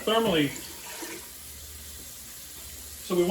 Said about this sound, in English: we need to fill up the jars halfway with water